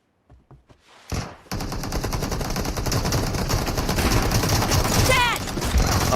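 Rapid gunfire from a video game, loud dense bursts that start after a brief quiet opening and continue steadily, with a pistol coming into play.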